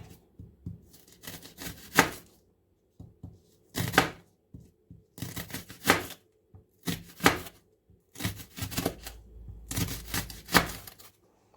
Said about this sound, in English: I'm going to chop the tomatoes and the onions, slice them.